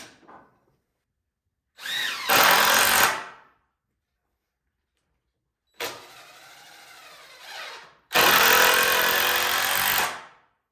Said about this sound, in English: I can screw in both sides of the board